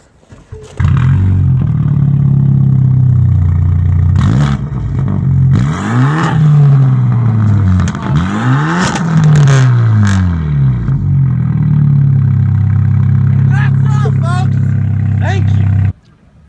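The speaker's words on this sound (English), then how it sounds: "I'm gonna give you a demonstration of my exhaust now." A car engine with new downpipes idles with a deep exhaust rumble, then is revved hard several times, each rise and fall roaring loudly up close before settling back to idle.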